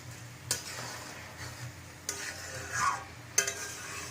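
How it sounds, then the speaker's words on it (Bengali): A pot of khichuri made with cauliflower, beans and mung dal is stirred, with three or four distinct scraping knocks of a spoon against the pan over a soft, low cooking hiss. "ফুলকপি বিনস মুগ ডাল এইসব দিয়ে একটুখানি খিচুড়ি বানাচ্ছি তিনজনের জন্য"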